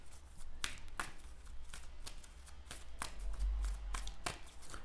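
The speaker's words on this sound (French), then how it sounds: "Je mélange le deck rencontre." A deck of Marvel Champions game cards being shuffled by hand, a string of quick, crisp riffling bursts repeating at an uneven pace, close and fairly quiet, with no talking.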